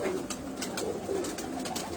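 Checkered pigeons sitting on eggs give soft, repeated cooing, close and steady over a continuous bird-filled background.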